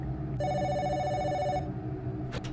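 A telephone rings in a Five Nights at Freddy's fan game, The Return to Freddy's, one sustained electronic trill lasting about a second over a low droning ambience, followed by a brief faint click.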